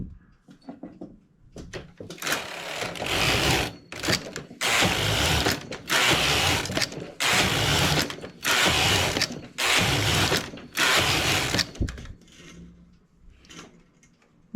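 A domestic knitting machine working English rib stitch clatters through a run of about eight loud, rhythmic carriage passes, each a dense mechanical rush separated by short gaps, before quieter clicks as the knitted piece is taken off.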